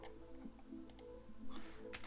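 Quiet clicks of typing on a computer keyboard, a few scattered keystrokes in short bursts with no talking.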